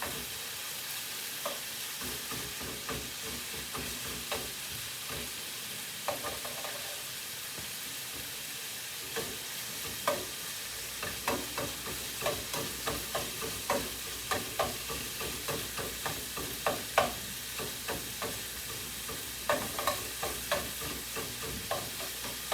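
Chicken stir-fries in a pan with a soft continuous sizzle, broken by frequent sharp utensil scrapes and taps that grow busier toward the end, close and fairly quiet with no talking.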